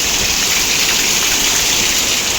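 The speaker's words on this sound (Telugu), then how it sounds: "వాన చూడండి ఎర్రి వాన" Steady, dense downpour roaring without a break, a loud broadband wash of heavy rain hitting surfaces close by, with no voices.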